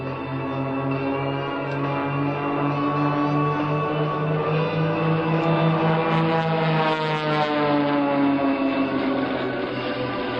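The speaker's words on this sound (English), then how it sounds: "All three airplanes roll at the same time." Three aerobatic propeller airplanes, an SU-29 and Extra 300s of an air show team, drone overhead at a Dover Air Force Base open house, a loud sustained buzzing engine tone that rises and shifts in pitch as they pass and roll.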